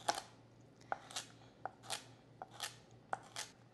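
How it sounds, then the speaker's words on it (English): Knife making lengthwise cuts through celery on a cutting board while preparing a salmon bake, a handful of crisp, separate chops spaced irregularly, close and fairly quiet, with no talking. "Now I want to cut it in half, and I want to make lengthwise cuts."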